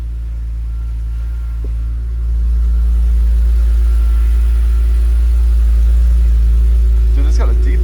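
A BMW E46 engine idles close by after an exhaust leak repair, giving a steady, deep low hum that grows slightly louder partway through, with brief sharper noises near the end.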